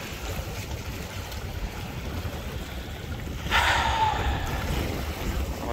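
Ocean waves roll in head-on at a rocky fishing shore at Kiama near Sydney, Australia, in a headwind. Steady surf and wind noise fill the scene, with a louder surge of wash partway through.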